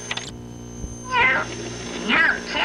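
A house cat meows twice in short, loud rising calls, the second about a second after the first, over a faint steady background hum.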